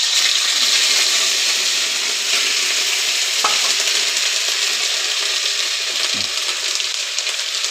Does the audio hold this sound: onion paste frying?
yes